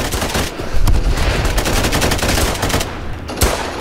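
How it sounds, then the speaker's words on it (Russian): Rapid automatic gunfire aimed at a shop in a Roblox gun-testing game, a loud, near, steady stream of shots with only brief gaps, carrying on throughout. "стреляю сейчас в магазин"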